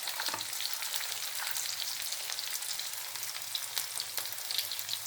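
Onions frying with salt in a pan for a curry, a steady close hiss and crackle of sizzling oil throughout with faint stirring scrapes, no talking.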